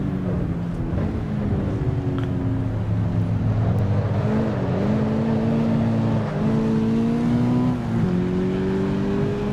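A race car engine in the racing game Assetto Corsa EVO revs steadily and loud, its pitch climbing and dropping through repeated gear shifts over a constant low drone.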